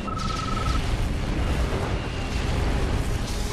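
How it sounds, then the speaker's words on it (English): A nuclear missile launches in the real-time strategy game Red Alert 2, a loud, dense, sustained roaring rumble like a blast or rocket burn filling the whole clip with no pause. "Warning, nuclear missile launched."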